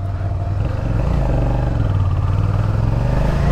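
Suzuki SV motorcycle being ridden with a passenger aboard, its engine a steady, loud low drone with a rough rumble that holds throughout without pause.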